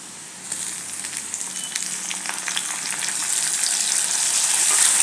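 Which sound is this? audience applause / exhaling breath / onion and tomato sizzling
onion and tomato sizzling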